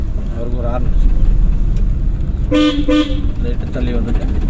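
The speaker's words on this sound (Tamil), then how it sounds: "அவருக்கு ஒரு ஹார்ன் அடிச்சு" Two short car horn toots sound close from inside a driving-school car over steady road and engine noise, with a voice talking before and after.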